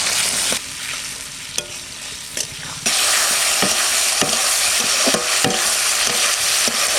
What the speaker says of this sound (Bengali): পেঁয়াজ আর টমেটো ভাজা হয়ে গেছে